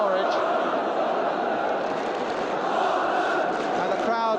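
A large football crowd at the 1973 League Cup final between Tottenham and Norwich City, a dense continuous roar of chanting and shouting with no breaks, with commentary heard over it.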